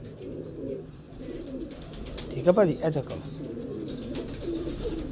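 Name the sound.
Ferozpuri pigeons cooing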